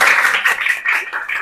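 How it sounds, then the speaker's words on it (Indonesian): A class of students claps together in a short burst of hand clapping, fairly loud and close, with some uneven pulses. "Tepuk tangan buat kita semua."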